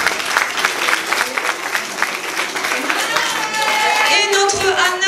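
Live audience applauds warmly and steadily at the end of a Christmas tale stage show, dense clapping filling the room, rising slightly fuller toward the close, with a voice speaking over it.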